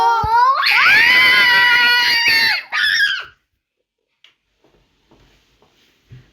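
A child lets out a long, loud sustained scream close by, then a shorter second burst, followed by near silence with faint small knocks.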